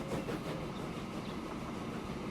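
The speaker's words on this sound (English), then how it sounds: "Look at you go, you giant train" Freight train rolling along in the Transport Fever game, a steady low rumble of wagons with faint rhythmic clatter, continuous and moderately quiet, without speech.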